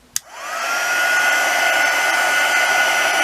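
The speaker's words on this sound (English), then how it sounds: "turn your volume down if you don't want to hear my loud heat gun" A heat gun switches on with a sharp click, then builds into a loud, steady, close blowing roar with a high whine, running alone without talk.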